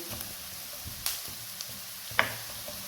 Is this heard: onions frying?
yes